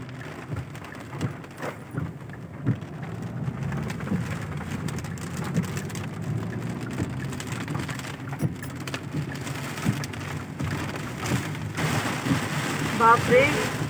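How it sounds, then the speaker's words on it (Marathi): Heavy village rainstorm with strong wind, a dense steady downpour roaring across the scene with a low rumbling bed, and a voice speaking briefly near the end. "बापरे, किती मोठा पाऊस, काही पुढचं दिसत नाहीये, एवढा पाऊस आहे गावाला. खूप पाऊस आणि वादळ आहे जोराचं."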